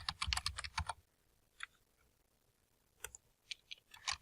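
Someone types a name into a search box on a computer keyboard: a quick, close burst of clicking keystrokes, then a pause, then a few isolated key taps before another rapid run of typing. No one speaks.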